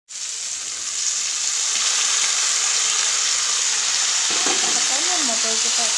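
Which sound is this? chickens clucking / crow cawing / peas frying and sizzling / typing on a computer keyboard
peas frying and sizzling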